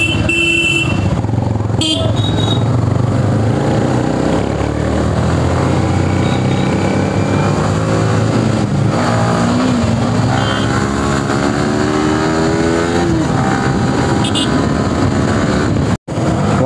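Royal Enfield Bullet motorcycle riding at speed on the Agra to Noida Expressway, a steady loud engine drone with wind roar that rises and falls through the whole stretch, faint voices mixed in beneath.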